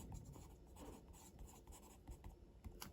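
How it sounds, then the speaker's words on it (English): A soft 2B incense-cedar pencil writing on Clairefontaine paper, a faint close scratchy rustle of graphite strokes in short bursts. "And this I'm using here is the 2B pencil."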